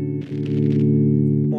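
A sustained, thick electric guitar tone through an ENGL 570 tube preamp with boost engaged, boosted and slightly driven, ringing steadily at close range after a brief burst of higher picking noise.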